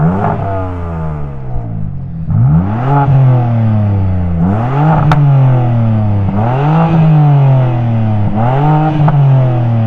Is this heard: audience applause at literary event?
no